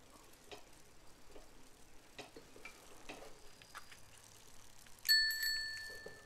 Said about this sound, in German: Wir können auch mit dem Controller klingeln.